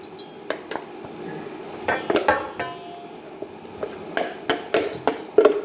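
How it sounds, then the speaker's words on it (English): Oats emptied into a gigantic bowl with a spoon, giving a string of sharp clinks and scraping knocks against the bowl, irregular and close, with no talk. "So we're just going to empty these into the bowl."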